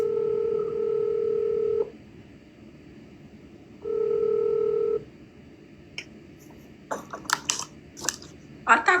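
A phone placing a call gives two long, steady electronic tones separated by a pause, followed by a scatter of quick tapping clicks near the end.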